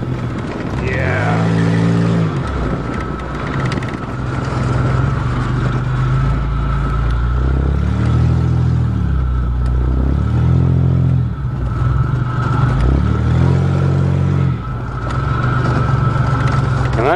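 An old farm vehicle, cold-started in March after sitting through winter, revs again and again, its engine climbing and falling in pitch about four times over a constant close-up idle rumble.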